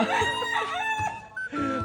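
A rooster crows close by in a single drawn-out, strained call, loud and harmonically rich over low farmyard background noise.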